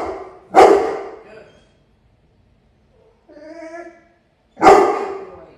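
A residential guard dog barks warning bursts at a decoy during protection training: two loud, close barks several seconds apart, with a quieter whining or vocal sound between them.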